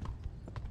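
Horse hooves clip-clop on the ground in the video game Kingdom Come: Deliverance, a quick run of close, low thuds in an uneven galloping rhythm.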